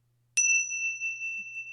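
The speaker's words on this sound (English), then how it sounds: "I'm going to ring our bells" A single bell struck once, ringing out with a clear, pure tone that lingers and slowly fades across nearly two seconds in an otherwise quiet room.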